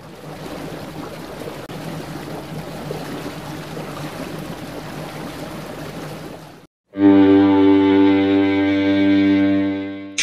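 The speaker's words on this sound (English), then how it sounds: "Boat." A boat's foghorn blares in a deep, loud, steady blast for several seconds, following a long stretch of continuous rushing water and engine noise.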